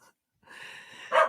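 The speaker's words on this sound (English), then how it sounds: "There's a puppy." A puppy gives a short whimpering yelp followed by a sharper bark, nearby and fairly loud, with no one talking.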